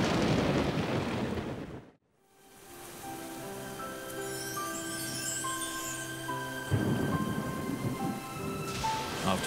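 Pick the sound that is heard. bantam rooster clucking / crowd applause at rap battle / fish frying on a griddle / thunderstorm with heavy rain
thunderstorm with heavy rain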